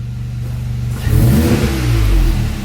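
Volkswagen MK7.5 GTI engine with its AWE exhaust resonator cut out, idling briefly before a single loud rev that rises and holds, heard close up with a deep, throaty drone.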